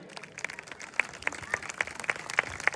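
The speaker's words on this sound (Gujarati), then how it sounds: "તાળીઓના ગડગડાટથી આપણે એમને વધાવી લઈએ" Scattered hand claps from a small crowd at a family gathering after a dance performance, steady and moderately loud throughout, with sharper individual claps standing out now and then.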